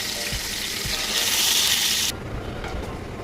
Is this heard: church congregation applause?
no